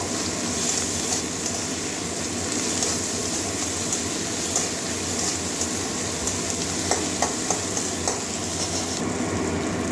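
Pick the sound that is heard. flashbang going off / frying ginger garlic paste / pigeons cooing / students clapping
frying ginger garlic paste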